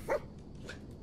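A dog in the Fallout 4 video game gives a single short bark, then a fainter second yip, both quiet and brief against a low background hum.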